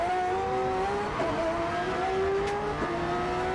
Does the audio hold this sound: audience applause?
no